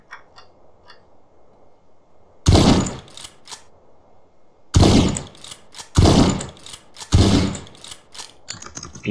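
Sniper rifle shots ring out during a GTA San Andreas DYOM mission: four loud, isolated cracks with a few seconds between them, set against a quiet, low ambient background.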